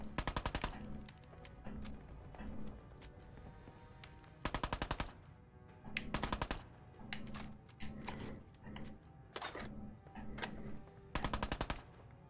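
Bursts of automatic gunfire in the video game Fallout, loud rapid rattling volleys repeating at intervals across the stretch, with quieter single shots and game sounds between them.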